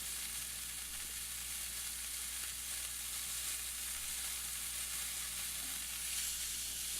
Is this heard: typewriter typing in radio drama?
no